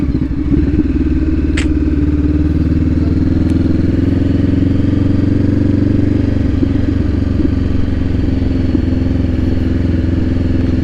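A group of motorcycles rides past close by, a loud, steady, low engine rumble with clattering texture that shifts slightly midway, with no voices.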